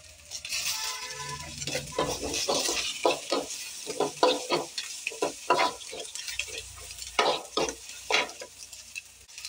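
Chopped onion and green chili sizzle in a pan while a spatula stirs them, producing loud, close clattering scrapes in uneven bursts over a constant frying hiss.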